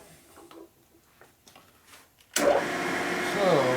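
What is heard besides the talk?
precision drill press running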